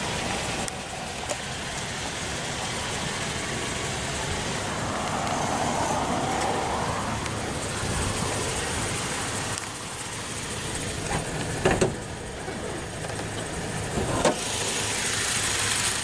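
A 2010 Toyota Tacoma SR5 Access Cab with the 2TR-FE 2.7-liter naturally aspirated inline-four, 5-speed manual and 4WD, idles with a steady, close broadband rumble and no one speaking.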